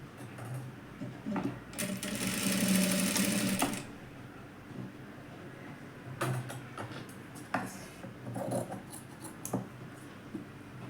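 A domestic sewing machine stitching a blouse, with a loud, rapid mechanical run of about two seconds near the start, then scattered clicks, knocks and short stitching bursts close by.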